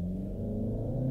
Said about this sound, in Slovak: Zrýchlenie na Cupre 300 ohromuje.